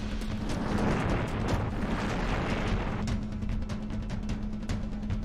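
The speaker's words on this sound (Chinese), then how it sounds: "轰的一声，把车子和谷仓炸上天。" A film explosion blows up an off-road vehicle and a barn, heard as a loud, rumbling blast that rolls on and slowly fades into crackling debris and scattered pops.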